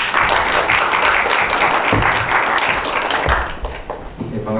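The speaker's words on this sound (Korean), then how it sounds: "나오실 때 박수로 환영해 주시기 바랍니다" An audience at an academic forum claps to welcome a presenter to the lectern, giving a moderate, continuous patter of many hands. It thins out near the end as a voice begins speaking.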